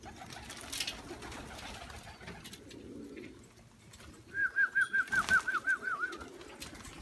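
Pigeons coo in a rapid run of about ten pulsing notes in the second half, with a brief flutter of wings early on over soft outdoor background noise.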